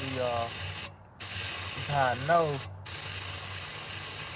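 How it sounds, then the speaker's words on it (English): A continuous close hiss of starter fluid sprayed into the engine of a 1999 Acura Integra GSR with a failed fuel pump, broken by two brief pauses, with a faint voice murmuring underneath. "when you spray starter fluid in it, it'll crank right on up"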